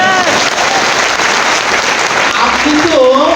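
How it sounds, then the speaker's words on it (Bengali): Loud, dense applause from an audience at a talk on medicine and health, a steady wash of clapping filling the whole stretch without letting up. "জোরে একটা হাততালি।"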